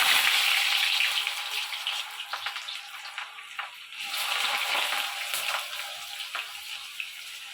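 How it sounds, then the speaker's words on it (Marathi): Cut potatoes frying in hot oil until reddish and crisp, giving a steady close crackling sizzle with scattered pops and ticks throughout, no voices. "आता हे बटाटे छान लालसर होईपर्यंत मी तळून घेईन."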